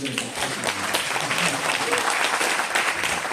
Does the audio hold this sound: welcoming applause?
yes